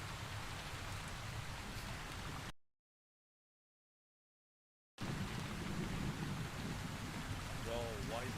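Rain falling inside a ship in the video game Arma 3, a steady dense hiss of downpour interrupted by a silent gap of a few seconds, then resuming.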